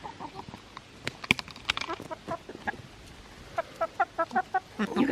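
Chickens cluck at a backyard coop over food scraps, with scattered soft clucks giving way to a quick, regular run of clucks, moderately close and fairly quiet.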